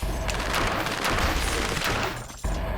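Rapid gunfire in the Dead Cells video game, a dense, loud stream of shots over busy game sound, ending with a brief drop and a final burst.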